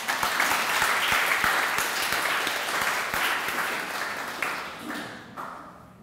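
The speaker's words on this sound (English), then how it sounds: "Give a round of applause, please." An audience at a Model UN opening ceremony claps steadily in a sustained, fairly close round of applause for several seconds, then it thins out and fades toward the end.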